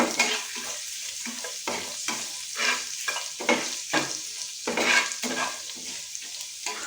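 Chopped garlic fries in a pan over raised flame, a steady close sizzle broken by repeated rhythmic scraping strokes of a spatula stirring, with no voices.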